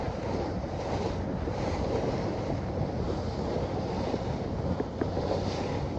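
Steady wind rushing across the microphone on the front deck of a boat near Oriental, North Carolina, with the wash of waves beneath, a constant outdoor roar on open water, no talking.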